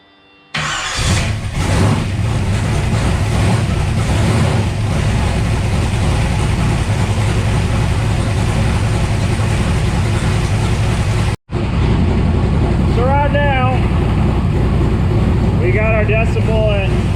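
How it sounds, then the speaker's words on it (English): A large diesel truck engine fitted with a DIY exhaust kit cranks and catches, then settles into a loud, steady idle with a brief cut partway through. "So let's fire the truck up and find out what happens."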